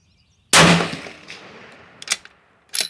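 A single loud Howa 1500 rifle shot in 6.5 Creedmoor, a sharp crack with a long rolling echo fading off, then a couple of faint clicks or clanks from handling afterward.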